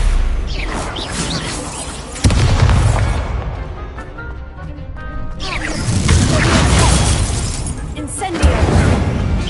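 Confringo blasting-spell explosions in a Harry Potter video game, several loud booming crashes and shattering bursts spaced a few seconds apart amid game effects and voices.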